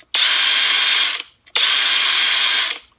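A high torque cordless impact wrench fires in two loud, close bursts of about a second each, a dense rattling hammering with a short pause between them and no talking.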